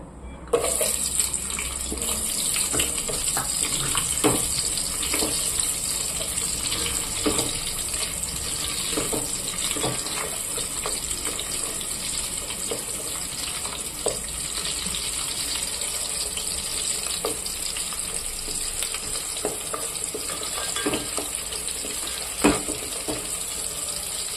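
Onions with carrot and green chilli sizzle and fry in a pan, a steady hissing crackle that runs throughout with a few scattered pops and stirring knocks, and no talking.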